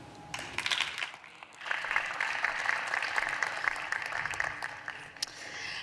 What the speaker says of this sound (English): One more round of applause to all our representatives